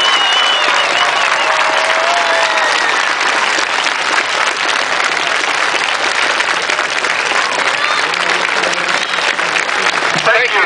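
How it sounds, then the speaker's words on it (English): Loud, sustained applause from a large crowd at a high school varsity home football game on Veterans Appreciation Night, continuous throughout, with cheering and voices mixed into the roar. "Please give them a huge round of applause."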